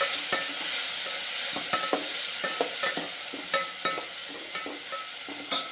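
Tomatoes stirred in with frying onions for sambar make a soft sizzle, broken by regular knocks and scrapes of a spoon against the pan, close and steady with no voices.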